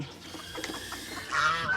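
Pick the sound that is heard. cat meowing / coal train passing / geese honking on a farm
geese honking on a farm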